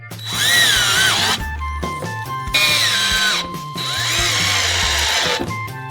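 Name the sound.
screwdriver fastening corners to plywood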